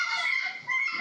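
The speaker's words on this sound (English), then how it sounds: "geese calling on a frozen lake" Synthetic geese calling on a frozen lake, a dense chorus of overlapping honks and harsh cries that continues through the whole short stretch with only a brief dip in the middle.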